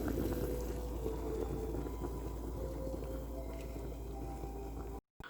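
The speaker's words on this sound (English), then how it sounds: "I don't know if you can hear that, but that thing is boiling." Steady bubbling and rumbling of autumn harvest soup at a rolling boil in a soup maker, close and continuous, with a low hum underneath and a brief cut near the end.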